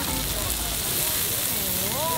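Wagyu beef sizzles on a hot grill pan, a constant loud crackling hiss while people talk over it.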